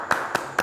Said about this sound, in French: On a le droit d'applaudir.